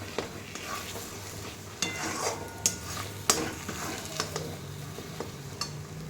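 Kuche fish curry with spice paste sizzles in a pan while being stirred, a low steady fry punctuated by sharp clinks and scrapes of a spoon against the pot.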